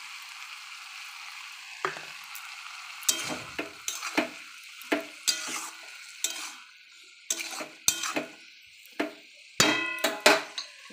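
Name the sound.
mustard paste frying and being stirred in pan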